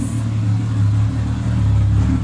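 A 2JZ car engine idles with a deep, throaty rumble close by, swelling slightly in brief revs without ever cutting out.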